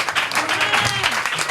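A church congregation applauds in a short continuous burst of clapping, fairly loud and dense, blended with voices.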